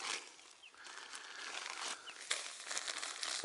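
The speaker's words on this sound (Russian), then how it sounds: "Пакетик Дунаева пошел." A bag of Dunaev fishing groundbait is emptied into a mixing bowl, giving close, quiet crinkling of plastic packaging with soft rustling pours, and no talk.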